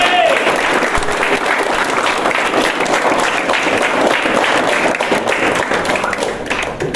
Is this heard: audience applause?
yes